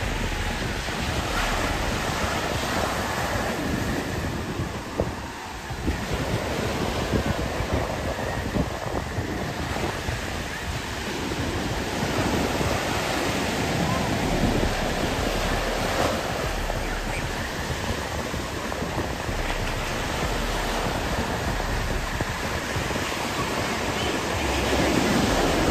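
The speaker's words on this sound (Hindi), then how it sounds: "असली मज़े तो यही ले रहे हैं समंदर के, और समंदर भी बहुत ऊपर तक आया है।" Ocean surf washing high up a beach, a steady, loud roar of breaking waves with wind buffeting the microphone throughout and no voices.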